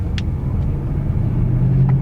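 A 2013 BMW 650xl engine rumbles deeply, with the pitch swelling slightly toward the end as the throttle is blipped, heard close and fairly loud.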